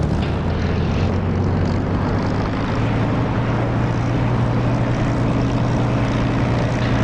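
Aircraft engine roaring steadily during a landing in the DCS flight simulator game, a loud continuous drone with a constant low hum that stays even throughout and has no voices over it.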